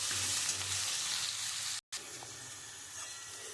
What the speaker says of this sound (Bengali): দিয়ে আমি মশলাটা দিয়ে একটু কষাবো